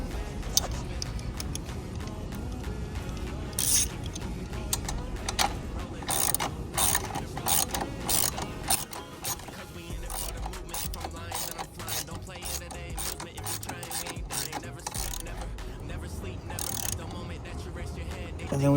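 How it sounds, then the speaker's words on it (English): Bolt being tightened on an e-bike wheel during a tube replacement, heard as close repeated ratcheting clicks in bursts with some light handling noise. "So now we just tighten the bolt."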